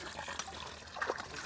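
Water gushes from a newly built hand pump well in a steady, close flow with splashing, while people talk over it.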